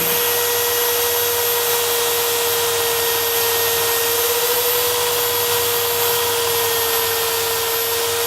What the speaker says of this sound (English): clean up this metal here with the grinder so it's nice and smooth